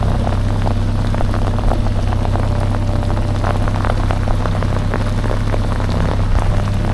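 Heavy rain drums steadily on a boat close by on the Emajõgi river, with a low constant rumble underneath and no voices.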